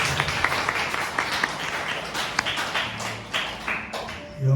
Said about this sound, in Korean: 여러분들께 큰 박수 한번 쳐주시면.